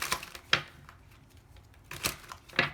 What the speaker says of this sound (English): I have to shuffle on the side over here